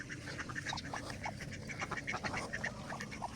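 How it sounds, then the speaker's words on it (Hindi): Ducks wandering on a farm give repeated short quacks from several birds, moderately close and overlapping in an uneven rhythm, over a steady outdoor background with no talk. "इधर जनाब डक्स फिर रही हैं"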